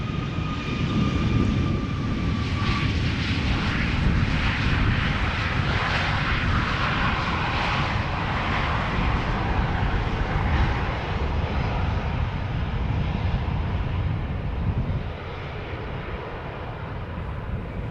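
A Tarom airliner on landing rollout at Schiphol Airport, a loud, continuous engine roar and broad rumble held steady throughout, without a rising reverse-thrust surge, easing slightly toward the end.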